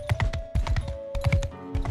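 A horse gallops in the video game Mount & Blade 2 Bannerlord, its hooves pounding out fast, close, rhythmic clip-clop beats in quick repeating clusters.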